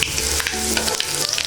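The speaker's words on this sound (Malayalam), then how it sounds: "ഇപ്പോൾ കടുക് പൊട്ടിയിട്ടുണ്ട്." Mustard seeds and curry leaves splutter and pop in hot oil for a Kerala-style upma, a dense, loud crackle with sharp scattered pops over a steady sizzle, close up and with no voices.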